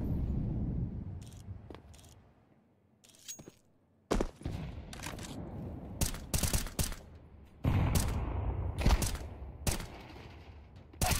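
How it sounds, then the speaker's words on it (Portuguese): Gunfire in a Counter-Strike match at IEM Cologne 2024, with scattered single shots and sharp rapid bursts of automatic fire, loud and close, between quieter stretches of game ambience. "Acerta o tiro ali pra cima do Cello"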